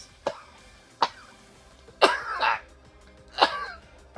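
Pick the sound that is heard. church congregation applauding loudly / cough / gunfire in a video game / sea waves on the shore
cough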